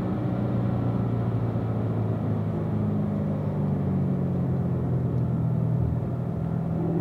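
A Corvette's engine drones steadily and loudly as the car takes a corner on a race track, a continuous low rumble with a steady tone and no talk.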